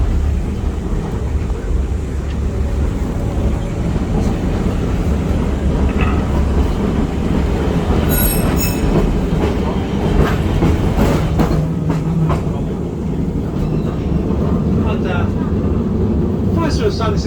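A heavy heritage tram rolls along its rails through Christchurch, giving a steady loud rumble with clattering and squealing wheel noise, and talk runs over it throughout.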